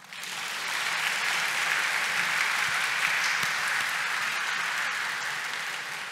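A large audience applauds at an academic-year inauguration ceremony, continuous dense clapping that swells in quickly, holds steady and begins to taper toward the end.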